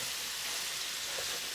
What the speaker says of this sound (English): we're gonna get that hamburger meat frying with the sausage